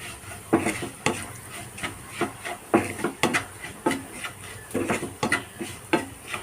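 A spoon stirs pumpkin pickle with a teaspoon of asafoetida powder in a pan, making repeated close scraping and clinking strokes in an uneven rhythm, with no talking.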